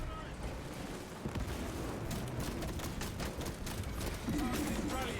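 Repeated explosions and gunfire crackle through a hectic Space Marine 2 firefight, with frag grenade blasts mixed into dense battle noise while players talk over the action.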